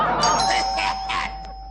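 A doorbell chimes a few bright ringing tones over a steady electronic hum, with some background voices and room noise beneath.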